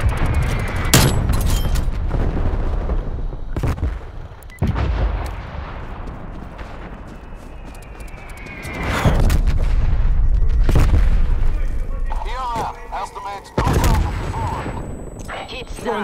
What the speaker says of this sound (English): Targets requesting artillery barrage.